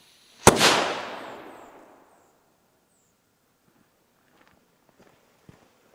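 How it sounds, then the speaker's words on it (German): A single sharp Dum Bum P1 firecracker bang, loud and close, its echo rolling away over about a second, followed by quiet with faint rustles and footsteps. "So wie ein guter D-Böller"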